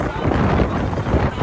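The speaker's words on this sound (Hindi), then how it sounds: "हवा चलने लग पड़ी मजेदार" Gusty wind buffets the microphone outdoors in a steady broadband rumble for the whole moment, loud and close, with no clear voices over it.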